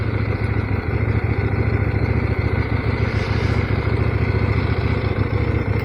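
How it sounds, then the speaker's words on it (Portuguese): A 2023 CF Moto 800 MT Explore motorcycle engine idling steadily up close, a low rumbling drone with a constant throb and no voices. "aqui está a lindíssima CF Moto 800, modelo de 2023"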